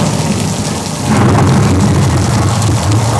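A simulated thunderstorm effect on a Universal Studios Hollywood studio tram tour: a loud, continuous rush of rain builds into a deep rumbling thunder roll, steady and enveloping, with no voices.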